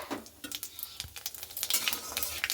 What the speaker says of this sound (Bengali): দিয়ে দিচ্ছি কড়াইয়ে সরিষার তেল। দেখুন দিয়ে দিচ্ছি কালো জিরা।